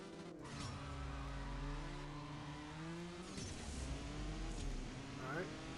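Koenigsegg engine in CSR Racing 2 revs through rising gear pulls with a brief tire chirp, steady and close, with a voice talking over it.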